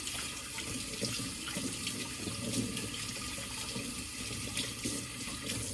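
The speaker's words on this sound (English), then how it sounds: "So now, wash my hands off here." Steady broadband rush of water flowing from a kitchen tap into a sink while hands are rinsed, continuous and close, with no talking.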